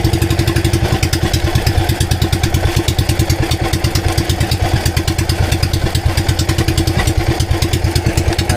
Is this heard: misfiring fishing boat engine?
yes